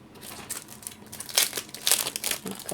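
A die cutting machine presses a die through green paper, giving close crinkling and crunching bursts that swell and fade over a few seconds.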